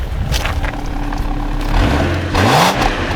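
A Holden Commodore SV6 or Ford Falcon XR6 exhaust roars through a rising rev, climbing and falling in pitch over a loud, rough, close idle rumble, with no talking.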